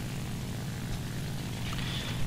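A bomber plane's propeller engine drones in the War Thunder video game, a continuous, moderately loud airscrew hum that holds steady throughout.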